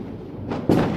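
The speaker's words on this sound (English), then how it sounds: "we're lighting a firework" A firework set off on bonfire night gives a sharp, loud bang near the end of a short burst, preceded by a softer pop, with no talking over it.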